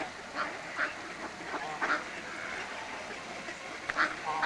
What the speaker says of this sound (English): All the ducks and geese are following Joe.